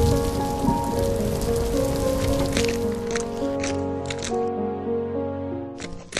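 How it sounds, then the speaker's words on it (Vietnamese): Heavy rain pours steadily throughout, a dense hiss spread under a soft background music bed, with a few brief clicks and no talking. "mưa chắc còn lâu mới tạnh đấy"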